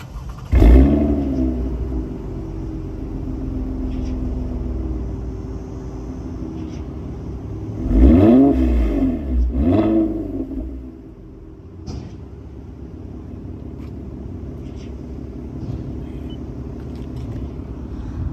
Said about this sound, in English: Y'all might have heard the crackles and burbles or whatever, but y'all hear that purr?